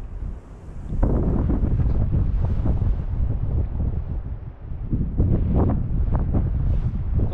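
Strong rushing water and surf churning steadily at high tide, heavily buffeted by wind against the microphone, with no talking.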